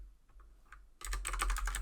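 Fast typing on a computer keyboard, a dense run of close clicking keystrokes that starts abruptly after a second of near silence and continues steadily to the end.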